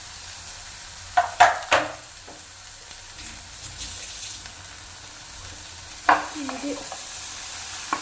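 Chopped tomatoes frying in a pan for chicken kabsa, with a low sizzle and a few sharp scraping clatters as a spoon stirs, in two short bursts, while someone speaks briefly.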